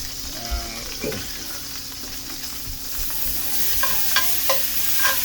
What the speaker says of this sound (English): we're going to go ahead and add some garlic, throw some garlic in there